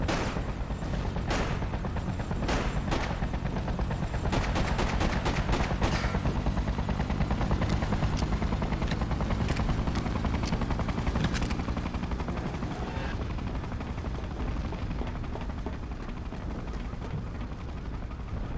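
Gunfire aimed at soldiers in the video game Freedom Fighters: repeated sharp shots and bursts crack through a loud, dense wall of battle noise and rumble that fills the whole stretch.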